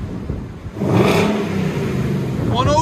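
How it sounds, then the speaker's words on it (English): A factory-stock Ford Mustang GT with its original exhaust revs up from a low rumble to a sustained throaty drone, loud and close, with a person speaking over it. "This is factory stock Mustang GT. It's not bad. Still got throaty Mustang sound."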